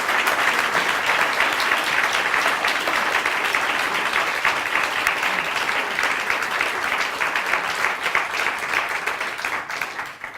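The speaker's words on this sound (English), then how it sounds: "Let's give him a nice round of applause." An audience at a bilingual panel event applauds, a dense burst of many hands clapping that holds steady and then starts to fade near the end.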